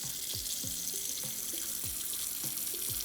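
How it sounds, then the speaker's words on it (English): Running tap water pours into a sink while makeup brushes are rinsed of shampoo, a steady close splashing flow with small hollow drips and gurgles, no voices. "Double rinse. You want to make sure all that shampoo is gone from the brush"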